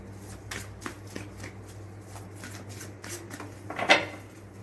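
A deck of tarot cards being shuffled close up in a quiet room, a run of quick papery riffles and slaps ending in a sharper flurry of cards.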